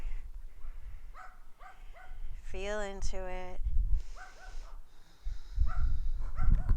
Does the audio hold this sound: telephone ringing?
no